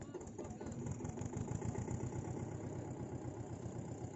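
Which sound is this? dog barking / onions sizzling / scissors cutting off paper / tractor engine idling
tractor engine idling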